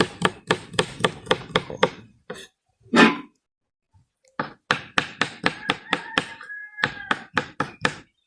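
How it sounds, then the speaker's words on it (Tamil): A knife chops green chillies rapidly on a cutting board into small pieces in quick, regular strokes, pausing briefly for a cough before the chopping resumes, close and crisp. "பச்சை மிளகாய் வந்து இப்படி சின்ன சின்ன சின்னன்னா துண்டு துண்டாக வெட்டணும்"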